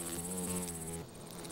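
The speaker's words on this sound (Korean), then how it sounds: "장수말벌의 접근." Buzzing wings of a giant hornet approaching oak sap in a forest, a close, steady droning hum that drops away abruptly about a second in, with faint insect sounds after.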